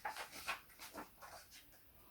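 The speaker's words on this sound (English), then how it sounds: "Labrador Retriever." Labrador Retriever panting close by, a quick run of about eight soft breathy huffs in a steady rhythm, quiet and alone.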